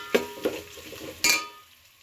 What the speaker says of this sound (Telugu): ఇప్పుడు చిన్న టమాటాలు, మీడియం కాదు చిన్న టమాటాలు 2 వేసుకుంటున్నాను